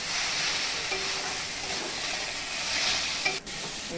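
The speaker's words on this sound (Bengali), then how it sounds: "চাল দিয়ে একটু ভালো করে ভাজিয়ে লাই" Rice fries with turmeric and spices in a pan as it is stirred, giving a continuous close sizzle with a brief scrape near the end.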